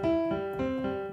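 A guitar playing a red-purple colour combination exercise: steady ringing chord tones with several struck attacks, alternating between two closely related voicings, clear and moderately quiet.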